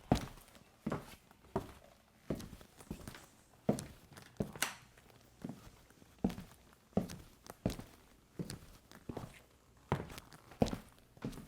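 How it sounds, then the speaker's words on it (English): Footsteps in Guidi Palo 2 boots, evenly paced heel strikes repeating about once a second, close and distinct with a slight scuffing after each step and no talking. "And now have a listen when I'm walking with my Guidi Palo 2."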